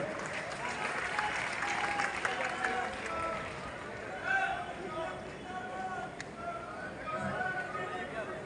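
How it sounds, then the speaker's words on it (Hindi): At an INLD-BSP alliance workers' rally, the crowd claps to welcome Abhay Singh Chautala. Sustained, moderately loud applause mixes with voices talking and calling out over it for the whole stretch. "साथियों जोरदार तालियां बजा करके भाई अभय चौटाला जी का स्वागत करें"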